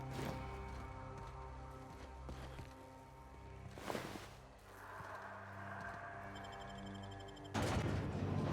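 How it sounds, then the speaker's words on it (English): Distant gunfire in The Outer Worlds sounds as a few faint, scattered bursts of bangs over a quiet ambient bed, spaced several seconds apart. "Hey, is that gunfire?"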